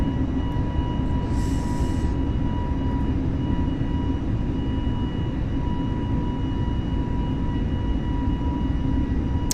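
Airbus A320neo engines in Microsoft Flight Simulator spooling up to climb thrust, a steady broadband roar with a faint high whine, continuous and even throughout with no talking.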